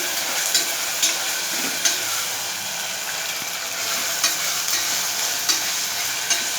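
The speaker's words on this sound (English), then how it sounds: "add 1 teaspoon of ginger garlic paste. Fry them nicely." Ginger garlic paste sizzles steadily in hot oil in a pan for an arbi gravy, with a constant frying hiss and periodic scraping stirs of a spoon, close and without talk.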